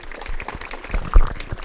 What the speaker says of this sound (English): Can we give them a great round of applause?